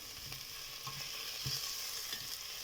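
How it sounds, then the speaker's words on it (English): Chopped onions fry in a shallow layer of oil in a pot for a smoky ribs stew, with steady sizzling hiss and a few soft spoon scrapes as they are stirred. "Mixing them to get my onions cooked a little bit before I add up my tomatoes, my fresh tomatoes"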